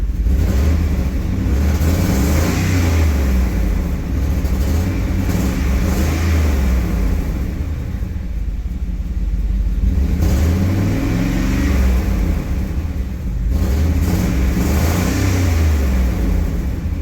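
A wrecked 1999 Chevrolet Tahoe engine with broken brake lines runs on years-old gasoline, a loud, rough, continuous rumble with repeated revving swells throughout and no talking.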